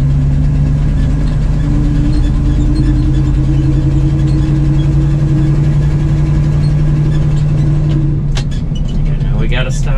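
A truck engine on a corn-hauling run rumbles loudly and steadily while working through low gears in town, with a voice talking over the drone near the end.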